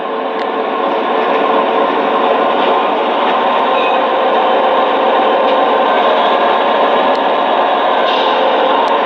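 Lionel model train locomotives, an Amtrak P42DC and a BNSF ET44AC GEVO, run on track. They make a steady, loud, continuous rolling rumble with faint clicks throughout, and no voices are heard.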